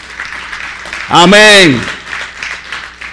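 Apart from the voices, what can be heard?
congregation applauding in church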